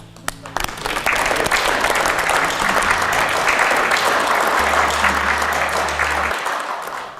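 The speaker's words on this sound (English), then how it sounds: "thanks guys, I applaud you." A group at a correctional centre in Australia breaks into loud, sustained applause that starts sharply and keeps going steadily to the end.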